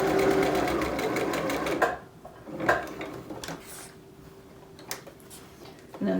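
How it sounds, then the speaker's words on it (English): A sewing machine stitching a fabric face mask runs in a steady rapid whir for about two seconds, then stops and restarts in short bursts with small clicks and handling noises between. "Making sure that I don't sew over my pins."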